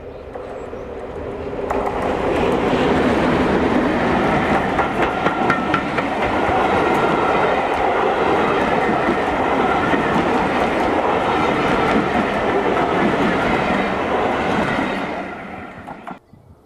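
A Class 31 diesel locomotive, 31466, climbs past Bank Farm on the Severn Valley Railway with rhythmic clickety-clack from the wheels, swelling in after a quiet start, staying loud for about fourteen seconds, then fading.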